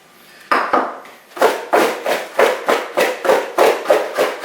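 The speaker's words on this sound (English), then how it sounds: "just going to shake these up so it coats them really nice" Potato fries tossed with Mrs. Dash chipotle spice in a bowl, shaken in about ten steady rhythmic rattling swishes, close and fairly loud with no talking.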